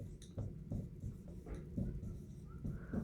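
Marker or chalk strokes on a classroom board during a probability lesson, a series of short scratchy squeaks and taps in irregular rhythm, close and moderately loud, with no talking.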